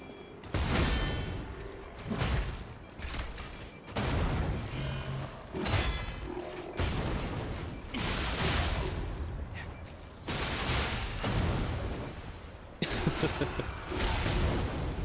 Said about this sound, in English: There's a lot of bombs everywhere.